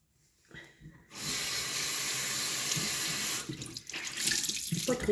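Water from a sink tap runs steadily in a close, continuous hiss for a couple of seconds, then breaks into splashier, uneven rinsing as something is held under the stream; no voices.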